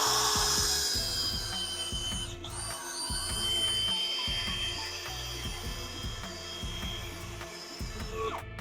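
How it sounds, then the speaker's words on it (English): A drill bit grinds through a rubber car control arm bushing in choppy, stuttering bursts of motor noise and rubbing, close and continuous with brief pauses as the bit is worked around. "take a drill bit and drill through the rubber and work your way around the whole bushing"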